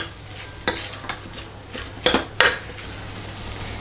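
Crushed green chillies being stirred into a sizzling chicken curry with onions in a pan: a spoon knocks and scrapes against the metal several times over a low, steady fry, close up, no talking.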